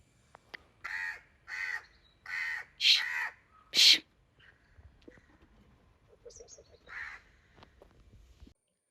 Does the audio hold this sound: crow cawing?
yes